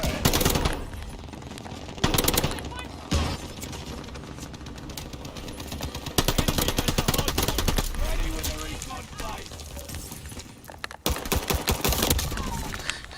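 Rapid gunfire around the hardpoint in the video game COD Vanguard, long chattering machine-gun bursts and single shots overlapping with short pauses between, loud and close, with a player talking over the chaos.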